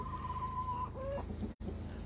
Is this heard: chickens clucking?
yes